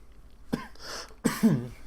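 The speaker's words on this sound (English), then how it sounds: "Trying to cough away from the mic whenever possible." Two short, throaty coughs close by, the second a little stronger, with quiet pauses around them.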